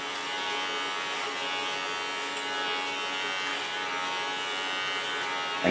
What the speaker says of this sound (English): And guide the hairs with my comb into the clipper blades.